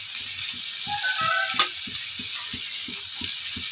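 Potato stuffing for aloo paratha roasting in a pan, a steady close sizzle with a regular soft tapping of stirring, no voices.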